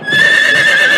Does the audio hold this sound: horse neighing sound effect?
yes